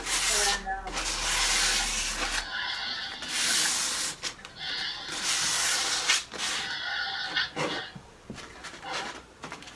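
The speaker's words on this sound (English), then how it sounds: "Just give it a little light sanding." A light hand sanding of primer on a wooden table, steady rasping strokes in repeated bursts with short pauses, close and fairly loud, with no talk over it.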